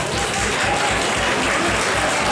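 Steady audience applause for a band at a school anniversary concert, a dense continuous roll of clapping at moderate volume with no voices over it.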